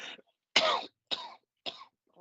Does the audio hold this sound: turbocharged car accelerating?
no